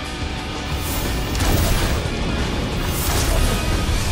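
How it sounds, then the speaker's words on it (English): Explosives going off during a siege-beast fight in Middle-earth: Shadow of War, a dense, steady rumble of booms and blasts that swells slightly midway and holds loud throughout. "Shooting those explosives should subdue the beast."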